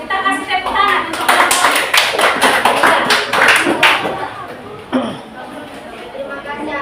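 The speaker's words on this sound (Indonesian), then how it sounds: "Kita kasih tepuk tangan untuk" An audience at a university group presentation claps in dense, lively applause for a few seconds, mixed with voices and chatter, then fades to a murmur.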